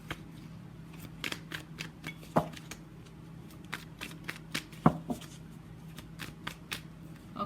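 Tarot cards being shuffled close up, a series of quick riffling snaps and soft flutters in irregular bursts over a quiet background hum.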